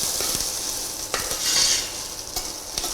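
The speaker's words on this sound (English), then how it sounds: "So you're just going to stir that a bit." Samp browns in a pan while being stirred, a steady sizzle punctuated by repeated crisp scrapes and knocks of the spoon at irregular intervals, close and fairly loud with no talking.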